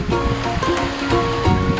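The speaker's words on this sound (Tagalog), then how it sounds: "ang ganda ng dagat dito sa amin" Sea waves at the shore at low tide wash in close and loud, a continuous surf rush with small bursts as the water breaks.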